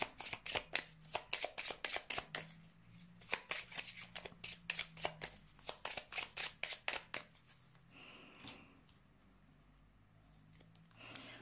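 Tarot-style cards shuffled for a card reading, a rapid run of crisp riffling flutters close by for several seconds, then quieter handling of the deck.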